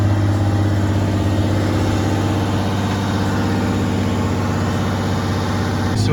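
A Ford Ranger pickup engine with a no-power fault idles high, around 2,000 rpm, with a steady, loud low rumble throughout, close by and unchanging.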